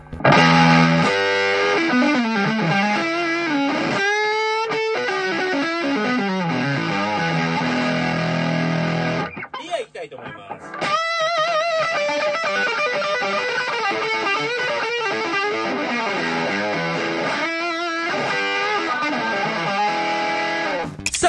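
An electric guitar on the front pickup plays through a Foxy Brown distortion pedal with no reverb, giving a loud, dry, saturated tone across chords and single-note riffs, with a brief pause partway through.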